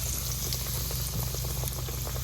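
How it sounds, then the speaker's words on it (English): A crappie fillet fries in hot oil after being dropped into the bubbling grease, giving a steady, dense sizzle and crackle close by, with no one talking. "We're going to let this fry for about 3 minutes."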